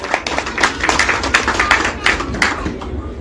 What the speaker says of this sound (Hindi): आदरणीय राजकुमार अंजुम जी के लिए एक बार जोरदार तालियां।